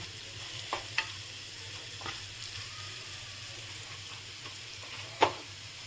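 Fried potatoes being stirred with ghee in a pan, a soft low sizzle beneath a few sharp spatula knocks against the metal, quiet and close.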